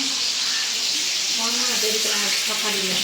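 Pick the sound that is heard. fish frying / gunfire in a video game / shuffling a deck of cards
fish frying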